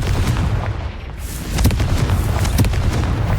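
A Confringo fire spell explodes in Hogwarts Legacy, a loud booming blast with dense rumble and crackle that swells again midway through, filling the short clip with no talk over it.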